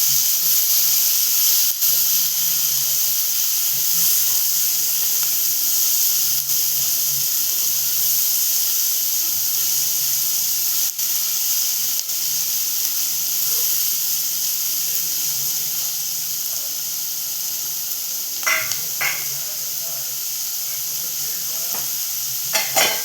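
Finely chopped onion, with a pinch of turmeric, sautés in a pan with a steady close hiss and sizzle, plus light stirring scrapes and a few clinks near the end.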